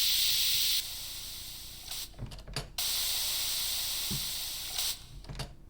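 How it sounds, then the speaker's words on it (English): Steam hiss sound effect, filtered and frequency-shifted, a loud continuous airy hiss that cuts out and resumes, broken by several short mechanical clicks and thumps. "I actually analyzed like an actual recording of Steam"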